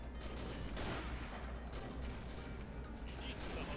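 Sniper rifle fire from an L115A3 in the shooter game Combat Arms, with sharp loud shots cracking over a dense, continuous roar of battle noise and dull impacts across the whole stretch.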